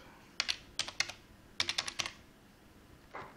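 Bursts of crisp, close keystrokes on a computer keyboard come in small irregular clusters with quiet gaps between, and a softer keypress sounds at the end.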